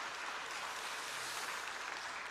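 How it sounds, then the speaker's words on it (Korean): A church congregation gives a steady, even wash of applause, heard faintly at a distance throughout with no voices. "평화속을 위해 큰 축복의 박수 해주시기 바랍니다."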